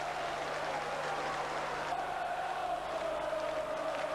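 A football crowd at Millwall v Q.P.R. cheers and applauds a goalkeeper's save with a broad, distant roar. The noise holds steady throughout, and a faint tone hums beneath it.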